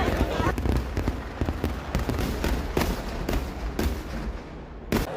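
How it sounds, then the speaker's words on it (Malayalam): Fireworks at the Nenmara Vallangi Vela temple festival in Kerala: a dense, continuous crackle of sharp bangs and pops with a rumbling undertone, loud and sustained, punctuated by heavier individual blasts. "വെടിക്കെട്ടെന്ന് വെച്ചാൽ സാമ്പിൾ വെടിക്കെട്ട് തന്നെ അന്യായമായിരുന്നു."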